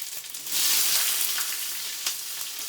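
Cumin seeds hit hot oil and burst into a loud, steady sizzle that swells after a brief quieter start, with a few sharp crackles and pops, heard up close with no voices.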